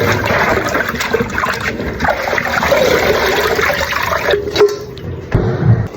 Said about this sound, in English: So when I wash this until I see the water clear.